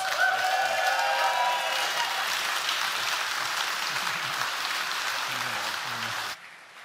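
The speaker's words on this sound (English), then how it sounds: "A big round of applause" Sustained applause from an audience at a live bartending competition final, a steady dense wash of clapping that stays loud throughout and drops off abruptly near the end.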